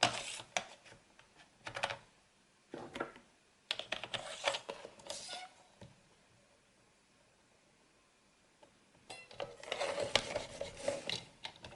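Cardstock is scored along a fold line 1 cm from the edge for a handmade Christmas card. Several short, close scraping rubs come in bursts separated by quiet pauses, with a longer run of scraping near the end and no talk.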